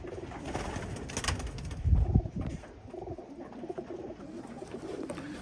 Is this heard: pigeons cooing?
yes